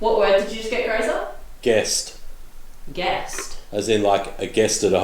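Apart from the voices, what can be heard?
No everyday noise stands out behind the speech.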